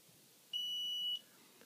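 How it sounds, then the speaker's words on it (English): A FrSky Taranis radio transmitter gives a single clear electronic beep at power-on while binding with an external module, a steady high tone lasting just over half a second in a quiet room. "That beeps, and now we see the LED switch to a slow blink"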